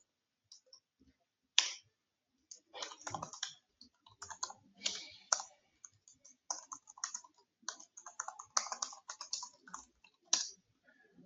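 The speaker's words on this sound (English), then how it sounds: "Type the email address of the person you want to add." Typing an email address on a computer keyboard: quiet, close, irregular key clicks in short bursts with gaps between, no talk.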